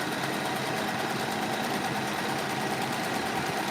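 A sewing machine stitching the border of fabric for a scrunchie, running in a steady, fast, even hum alone throughout.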